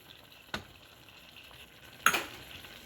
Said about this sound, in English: Mix it well and then add the chili powder.